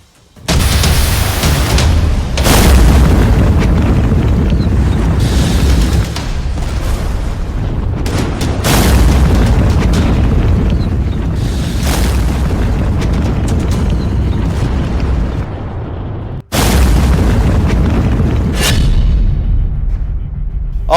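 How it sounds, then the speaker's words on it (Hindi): Drones explode over Abu Dhabi in a series of heavy, deep booms, each striking suddenly and leaving a rolling rumble, with loud blasts recurring at irregular intervals. "लेकिन तीसरा ड्रोन फट गया"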